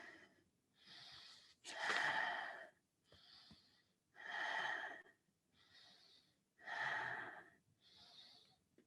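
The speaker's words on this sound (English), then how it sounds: "Long, deep breathing here," Long, deep breaths in a Kundalini yoga kriya, slow inhales and exhales alternating in a steady rhythm, close and clear in a quiet room.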